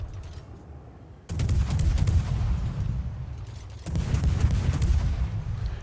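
Naval gunfire from warship guns in World of Warships: two loud, rumbling volleys of heavy shots, each a sudden burst followed by sustained booming roar, without speech.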